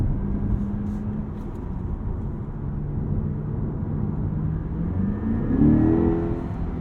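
A Chevy Corvette E-Ray in sport drive mode pulls with a steady, muffled engine drone heard from inside the cabin, rising into a brief louder rev and climbing pitch near the end.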